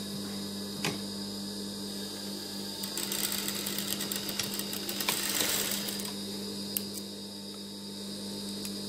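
A sewing machine stitching elastic for a fabric hair headband, running in a short burst of fast stitches at a moderate distance over a steady electrical hum.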